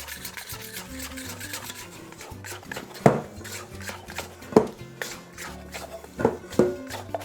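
Soft rubbing and scraping of gluten-free bread dough being worked free from a bowl, with several sharper knocks and taps against the bowl over low background music.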